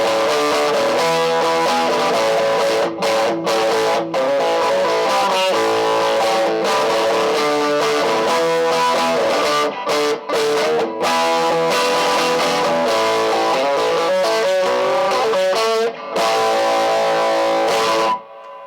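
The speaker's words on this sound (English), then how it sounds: "it'll sound like this with the tube screamer on" A brighter, less bassy single-coil electric guitar through a Tube Screamer overdrive into a 1966/1967 Vox Berkeley II amp plays a driving riff with short pauses between phrases, loud and close, no voices.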